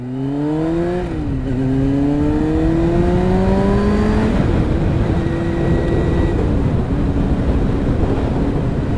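Kawasaki ZX-6R Ninja motorcycle engine revving close by, the pitch climbing, dropping at a gear change, then rising again into a loud sustained drone.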